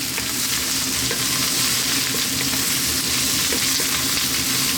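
Chili, turmeric, coriander and cumin powders fry in a pan for an eggplant curry, a steady loud sizzle with spatula stirring scrapes running continuously and close, no talking.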